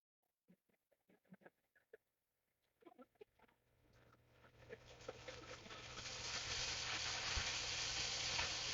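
Shallots, corn and tomatoes hit a hot pan for a herbed chicken dinner, building from quiet into a loud, steady sizzle and crackle of frying that fills the second half, after a few soft knocks and handling sounds.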